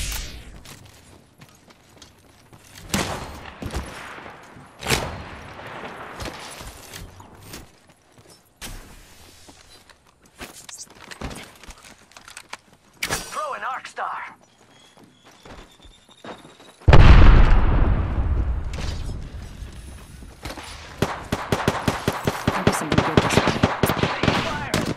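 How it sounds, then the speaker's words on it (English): Enemy gunfire in a video game, sharp rapid shots and bursts crackling in uneven volleys, growing loud and dense in the last third, with a voice speaking in places. "They're shooting at me."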